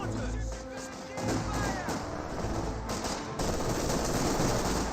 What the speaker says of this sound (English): MG42 set up in a good position